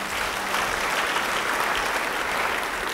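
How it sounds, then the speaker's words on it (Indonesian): A church congregation claps in unison, dense continuous applause filling the room evenly for about three seconds with no voices standing out. "Beri tepuk tangan bagi dia."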